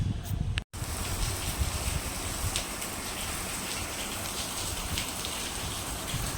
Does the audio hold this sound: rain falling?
yes